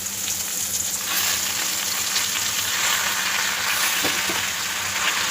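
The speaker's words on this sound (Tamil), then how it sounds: "இது நல்லா எல்லாமே நல்லா வதங்குற அளவுக்கு நல்லா வதக்கிக்கலாம்" Onions and gongura leaves sautéing in a pan, with a loud steady sizzle throughout and a few faint scraping stirs, close up and without voices.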